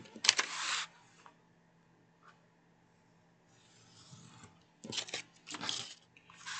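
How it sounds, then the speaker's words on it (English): A craft finger blade cuts around Dollar Tree decor, giving short, close scratchy scraping strokes broken up by quiet pauses. "now I'm going to take my finger blade and just cut to follow"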